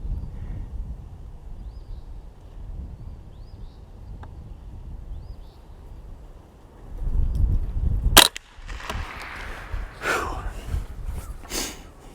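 Shots from a .22 long rifle with Federal Hunter Match ammo at an outdoor range sound as one sharp, close crack followed by a few fainter pops and rustles over wind noise.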